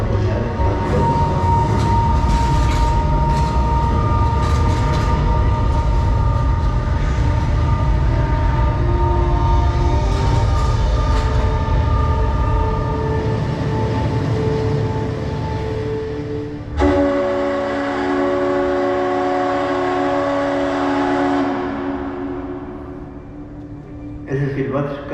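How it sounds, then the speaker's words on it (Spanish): The steam whistle of the Monterrey blast furnace blows long and loud, a sustained tonal blare over heavy rumble that shifts to a brighter pitch partway through before fading out. "Ese silbato casi que vivía en toda la ciudad."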